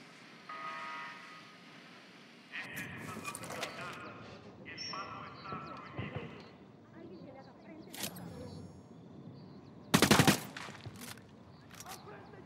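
Gunfire in the tactical shooter Ghost Recon Wildlands bursts out in several sharp volleys, one especially loud near the end, mixed with game effects and voices speaking.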